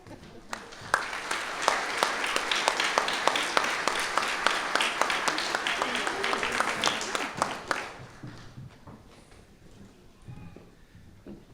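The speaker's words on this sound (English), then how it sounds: "Just one more round of applause for all of our Rainier Award winners" An audience applauds award winners at an R&D awards ceremony. The clapping is loud and sustained for about eight seconds, then thins out, with some voices heard over it.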